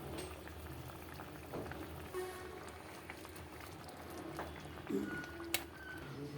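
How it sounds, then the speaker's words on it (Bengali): Water boils with omelette pieces added for an egg roll curry: a quiet, bubbling simmer with a few brief clinks and small splashes close by. "জলটা ফুটছে, আমি অমলেটের টুকরোগুলো দিয়ে দিলাম।"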